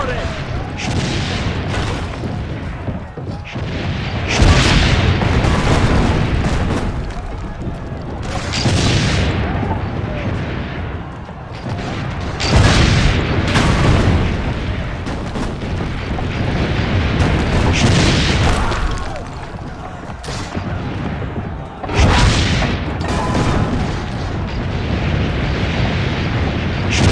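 Heavy cannon fire booms repeatedly in a Renaissance siege battle in Assassin's Creed Brotherhood, loud blasts every few seconds over constant rumbling chaos and shouted voices.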